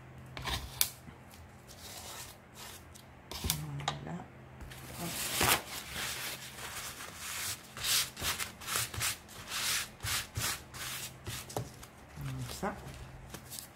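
A tool scrapes and rubs across an altered steampunk cutting board in repeated close strokes, with someone speaking French intermittently over the work.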